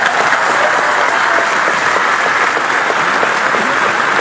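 Loud, dense audience applause for two party chairpersons at a political gathering, steady and sustained throughout with no voices over it.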